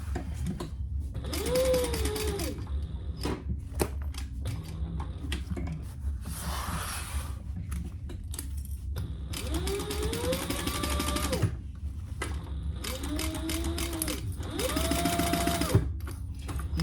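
A sewing machine stitches a crossbody bag in several steady bursts of fast running whir, broken by short pauses while the fabric is pivoted at a corner.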